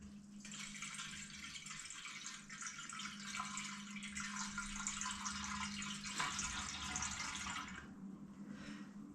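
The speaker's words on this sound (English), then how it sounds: "So turning on the spigot, everything has been sanitized and we're just gonna let it ride." Ginger mead flowing from a keg spigot while being kegged, a steady close hiss of pouring liquid that runs unbroken for the whole stretch, with no talk.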